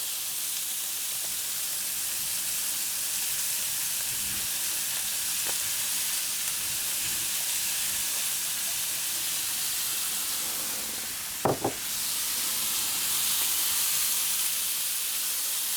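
Shallots frying in butter and oil, a loud continuous hissing sizzle with a few faint clicks and a brief sharp clatter partway through.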